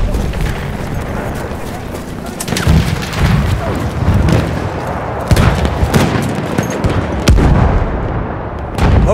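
Repeated heavy World War I artillery booms and gunfire crack through a dense video game battle din in Battlefield 1, with shouted voices mixed in; blasts land every second or two, loud and close.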